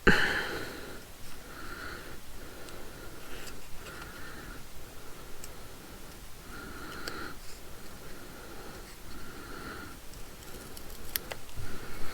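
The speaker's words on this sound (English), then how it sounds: "We cut them out" Small scissors snip through paper while little paper hearts are cut out, soft rhythmic crunching cuts repeating every second or two, close and quiet with no talk.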